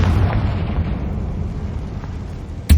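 Confringo blasting curse explodes inside an abandoned mine in Hogwarts Legacy: a sustained low rumbling roar that slowly fades, then a sharp, loud burst hits right at the end.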